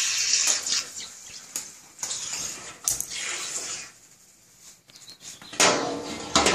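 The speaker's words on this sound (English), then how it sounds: "Water's filling up." Water runs from a tap into a nanobrewery vessel, a continuous hissing splash that swells and fades, with some quieter stretches and a few brief knocks.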